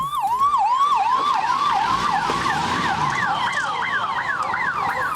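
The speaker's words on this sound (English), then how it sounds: "The mock drill started with a siren blowing." A loud wailing siren sweeps up and down continuously, with a second siren tone joining partway through, close and steady throughout, at the start of a mock drill.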